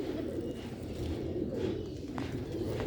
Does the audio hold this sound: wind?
no